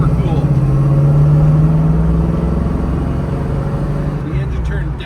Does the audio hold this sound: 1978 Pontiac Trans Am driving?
yes